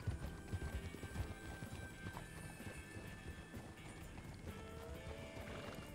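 Hooves clip-clop in a quick, uneven rhythm as a horse moves in a ranch roleplay video game, with a whinny breaking through; the steps are moderately near and continue without pause.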